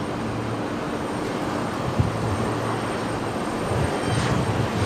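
A Boeing 747 arriving at Brisbane Airport with landing gear down, a steady distant jet roar under broadband rumble, holding fairly constant with a slight swell toward the end.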